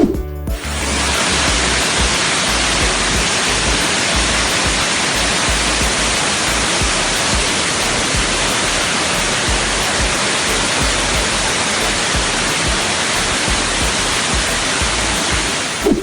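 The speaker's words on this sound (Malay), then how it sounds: "Mari kita saksikan video air terjun ini." Waterfall at Sungai Gabai in Selangor, a steady, loud, broadband roar of falling water that holds unbroken from start to finish, with no voices.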